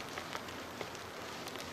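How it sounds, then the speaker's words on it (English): Soft, steady rain patters on surfaces outdoors, faint and continuous with occasional distinct drops. "Starting to rain."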